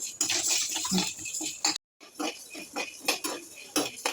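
Chana dal dry-roasting in a pan, grains rattling and scraping as they are stirred in short bursts, with one brief pause midway.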